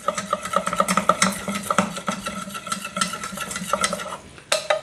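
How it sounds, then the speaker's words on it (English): A flour roux made with olive oil and butter is stirred in a pan. Close, rhythmic scraping and clinking of a utensil against metal runs over a soft sizzle, briefly pausing near the end, with no talking. "we put some flour to do our roux"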